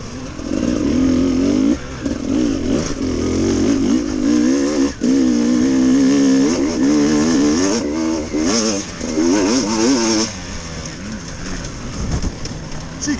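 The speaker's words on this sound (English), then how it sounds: "Bike's running nice, mind." A Beta 300RR enduro motorcycle runs at a winter championship event at Coney Green, its engine loud and close, rising and falling in pitch through steady revs and throttle changes for the whole stretch.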